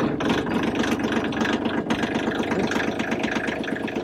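A tractor engine runs on a frosty cold morning, a loud, close, rough idle with steady low chugging pulses and a slightly knocking rhythm, continuous throughout with no talking.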